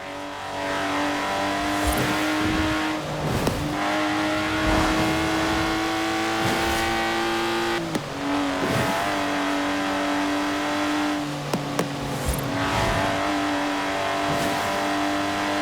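A Lotus Exige in Forza Horizon 4 drives continuously, its engine droning with rising and falling revs and gear changes, loud and close throughout with no talking.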